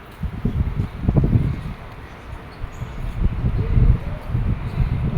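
Wind blowing outdoors near clean water, a steady low rushing buffet that swells and eases in gusts, loud and close against the microphone, with no talk.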